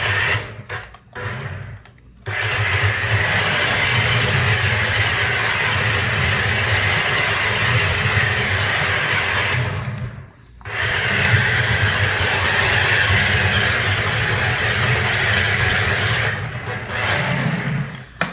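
Veenix V991 transforming RC toy car spinning 360s indoors, a loud continuous electric motor whine and rolling drone that cuts out briefly twice before starting again.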